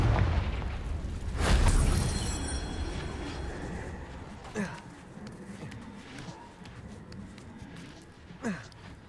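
Confringo blasting spell explosion in Hogwarts Legacy: one heavy, broadband boom bursts early and rumbles away, followed by a couple of smaller, sharp thumps in the quieter stretch.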